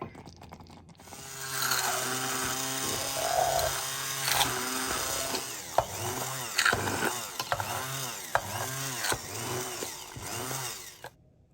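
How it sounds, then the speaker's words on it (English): An electric mixer blends soft cooked persimmons into smooth jam in a pot, its motor whining loudly and steadily, with pitch rising and falling in repeated sweeps as it works, and no voices. "I'm going to use the mixer"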